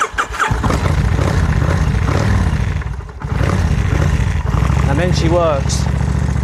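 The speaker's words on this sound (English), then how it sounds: "This is a very old motorcycle and it has a carburettor." A very old carburettor motorcycle with a manual choke cranks, catches and settles into a loud, close, rumbling idle, while a voice speaks briefly over the engine.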